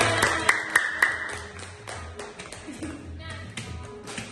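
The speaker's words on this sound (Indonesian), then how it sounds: "tepuk tangan" Young children clap their hands in a classroom lesson on healthy food, a scattered run of taps and claps with a teacher's voice talking over them.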